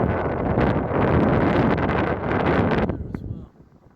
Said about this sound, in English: the wind's picking up a little bit